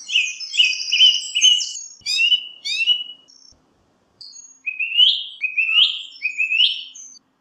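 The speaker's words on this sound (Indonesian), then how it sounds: "seekor burung anis sisik terdengar sedang bernyanyi dengan sangat merdu" Clear, close birdsong of a scaly thrush: bright whistled phrases and rising trills in several bursts, separated by a brief pause, with a quiet background.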